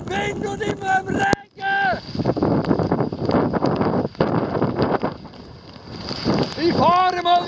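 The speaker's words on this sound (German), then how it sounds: "Ich hoffe, man hört es in dem Wind und in dem Regen." Gusty wind buffeting the microphone with a steady wash of rain, riding a solar trike between Auckland and Hamilton, New Zealand, while a person talks in German over it at the start and end.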